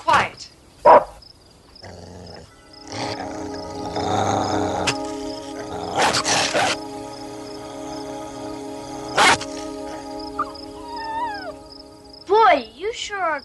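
A pet dog growls and barks indoors in a home, with sharp bursts over a sustained low rumble and steady tonal background sound, while people speak nearby.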